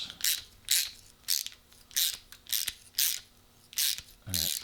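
A thread die ratchets back and forth while cutting threads on a rusty brush axle. About eight even clicking bursts repeat close by at a steady working rhythm, and no voices are heard.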